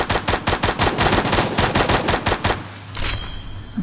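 Rapid automatic gunfire from Free Fire, a steady burst of loud shots lasting about two and a half seconds, then a brief quieter stretch with a faint high tone.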